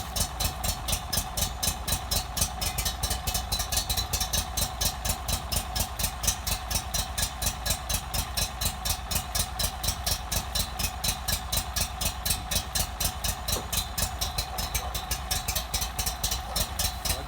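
A small gas engine, likely a pressure washer's, idles steadily nearby with a fast, even pulsing chug and constant mechanical vibration, and no one speaks.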